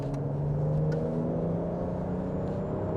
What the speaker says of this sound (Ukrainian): Турбінку чути. І він прям поїхав.